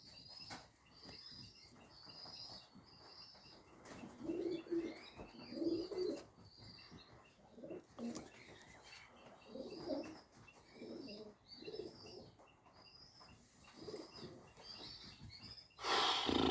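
Racing pigeons coo softly in a loft, a low repeated murmuring that rises and falls in bursts over about sixteen seconds, with faint chirps and a brief louder rustle near the end.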